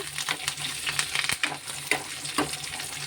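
Onion, garlic and cumin crackle and sizzle in hot tempering oil, with sharp pops and spatters scattered over a steady frying hiss, close up and fairly loud.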